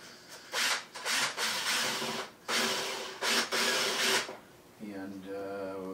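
Screws are driven back into the upper driver mounting of a QSC HPR122i powered speaker, heard as repeated close scraping, grinding bursts with short pauses between them. A softer, different mechanical whir follows at the end.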